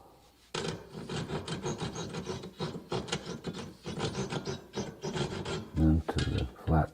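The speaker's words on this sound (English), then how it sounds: "First remove the waste, saw," Hand saw cutting away waste from an oak hinge pin in close-up, a steady run of rasping strokes that continues for several seconds, with a few heavier knocks near the end.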